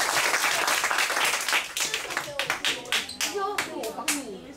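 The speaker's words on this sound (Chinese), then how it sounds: "掌声鼓励" A primary school classroom breaks into applause during a lesson: dense clapping from many children at first, then thinning into scattered individual claps that fade away.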